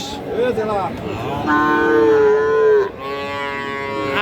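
Several loud, drawn-out moos from Friesian and crossbred bull calves close by at a livestock market in Dinajpur, Bangladesh, one following another, over a low background murmur of a busy outdoor crowd.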